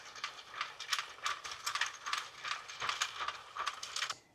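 A Sentro or Addi circular knitting machine is cranked, giving a steady run of rapid plastic clicks and ratcheting mechanical clatter, close and continuous, with no voices.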